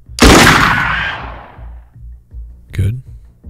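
A single loud gunshot in the Xenonauts 2 tactical game cracks out sharply and rings off in a long decaying tail, followed by a softer impact and someone talking nearby.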